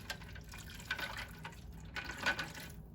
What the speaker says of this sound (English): You soak the skewers